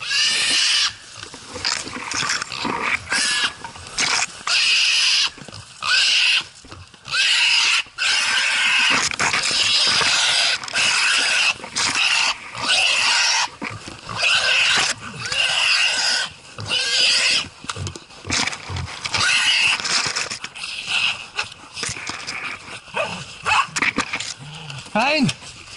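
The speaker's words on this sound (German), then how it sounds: "Ein, der Hund! Guter Hund!" An excited Heideterrier hunting dog on a driven hunt yelps and squeals continuously, loud and close, with a voice calling out over it.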